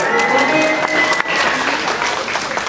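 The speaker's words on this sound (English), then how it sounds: "just by a round of applause, how many kids do we have here today?" A children's audience at a magic show matinee breaks into steady, dense applause, loud and sustained throughout with a faint crowd murmur beneath.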